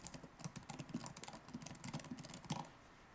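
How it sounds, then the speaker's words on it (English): Quiet rapid typing on a computer keyboard, a dense patter of soft clicks picked up by a nearby microphone during a programming livestream, with no voices. "What about this for keyboard loudness?"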